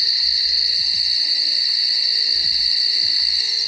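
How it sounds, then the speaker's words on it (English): Owls hoot repeatedly against a steady, loud bed of chirping crickets, a calm clear-night ambience from a weather app's Edinburgh night scene, with no talking. "it's like a clear night and you can hear the owls and stuff"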